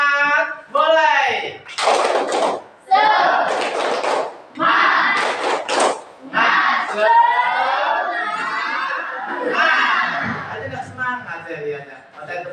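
A classroom of students doing a rhythmic spirit clap, with bursts of sharp group claps in a set pattern mixed with a teacher's voice and children chanting along.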